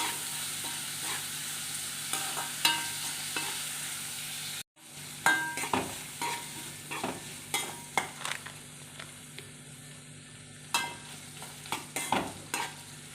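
Mint leaves sauté in a pan for chutney, a steady frying sizzle broken by repeated stirring scrapes. After a brief cut partway through, the strokes become more regular and pronounced, close and clear with no voices.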